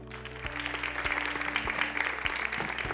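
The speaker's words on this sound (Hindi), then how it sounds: "बिना कहे समझ गए कि तालियों से इनका स्वागत करना चाहे" An audience claps steadily to welcome the runner-up at the final of a Bollywood karaoke singing competition. The applause is dense and sustained, with regular low thumps of a beat running beneath it.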